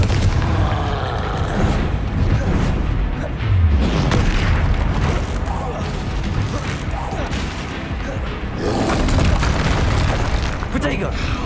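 Repeated Confringo blasting-spell explosions in the Hogwarts Legacy video game, loud booming bursts running through combat alongside shouted spell names and other battle noise.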